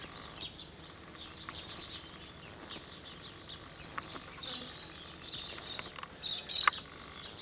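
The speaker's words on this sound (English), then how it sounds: "Cockatoos." Scattered cockatoo calls in the open air in an Australian garden, with harsher squawks growing louder toward the end over a soft background hiss.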